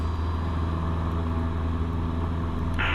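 A Cessna 172's piston engine is brought up to full power for takeoff, a steady loud droning roar that holds even and continuous throughout, close and dominant with no voices over it.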